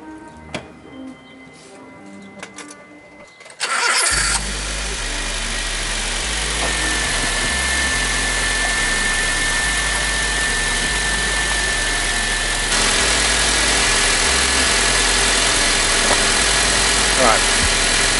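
A Honda Civic EP engine cranks and catches, then settles into a steady, loud idle that continues throughout, with a slight rise in level partway through.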